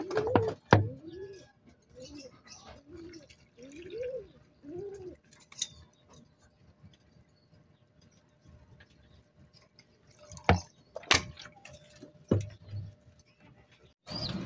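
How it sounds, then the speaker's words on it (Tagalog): Pigeons in a loft in Bongabong, Mindoro, giving a series of soft, low cooing calls against a quiet background, broken by a few sharp clicks and wing or cage knocks. "Ito na mga kaibon yung mga kalapati ko"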